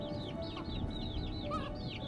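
Cartoonish chicken clucking from a puzzle video game about rescuing caged chicks, a repeated rapid series of high chirpy clucks over a steady low background hum.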